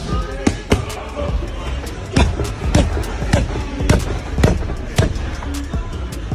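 UFC heavyweight Francis Ngannou throws punches in training, with sharp, irregular thuds of strikes landing on pads under a coach's shouted calls.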